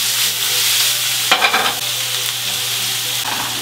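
An omelette frying in a pan gives a dense, steady sizzle up close; a brief rustling scrape partway through marks it being turned, then the frying carries on evenly.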